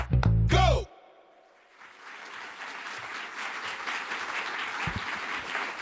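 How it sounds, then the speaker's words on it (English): Audience applause fills a NASA headquarters auditorium in Washington, D.C., a steady broad wash of many hands rising after a short loud burst of sound and continuing evenly at moderate distance, with no voices over it. "Thank you for that applause"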